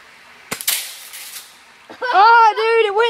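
A sharp gunshot is fired at a rock in an outdoor rural setting. It is one loud close crack with a short ringing tail, followed by a person speaking loudly.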